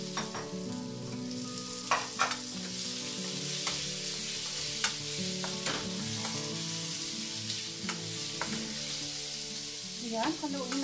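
Shrimp sizzle in a pan of broccoli stir fry, a steady frying hiss punctuated by clinks and scrapes of stirring, heard close with no talking.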